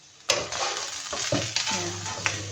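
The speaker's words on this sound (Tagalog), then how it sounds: "Tapos igigisa muna natin tong talong guys kasi matagal siya maluto." Eggplant sautéing in a hot pan, giving a steady loud sizzle broken by a few sharp scrapes and stirs of a utensil, close by and with no talking.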